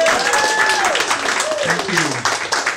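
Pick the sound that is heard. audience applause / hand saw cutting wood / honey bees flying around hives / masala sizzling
audience applause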